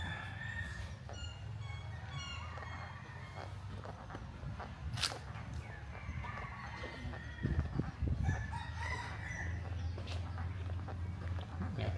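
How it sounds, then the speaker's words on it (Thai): A rooster crows at a Buddhist temple in Ayutthaya amid clucking chickens, heard at moderate distance over a steady outdoor ambience with birds and a faint dog. "มีน้องไก่ด้วยนะ น้องไก่ ยังไงจ้าน้องไก่และลูกเจี๊ยบ"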